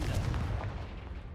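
A Confringo fire spell cast in the video game Hogwarts Legacy gives a loud, booming blast that hits at once and rumbles away over about a second, alone without talk.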